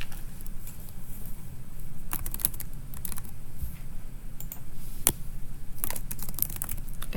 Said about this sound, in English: I can still type.